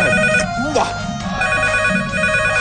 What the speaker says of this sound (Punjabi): ਕੋਈ ਫੋਨ ਤਾਂ ਚੱਕੋ।